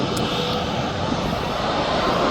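A Jet2 Holidays jet airliner departing Birmingham Airport for Gran Canaria gives a loud, steady roar of engine noise that fills the whole stretch without a break.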